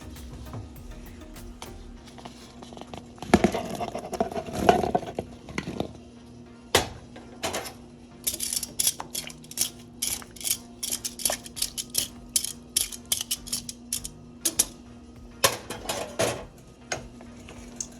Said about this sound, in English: you just mix all those together